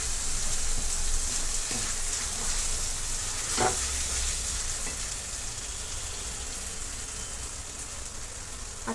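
Spice masala sizzling in a pan for Kolhapuri-style chicken sukka, an even crackling hiss that carries on steadily with a couple of brief stirring scrapes, close and moderately loud, no speech.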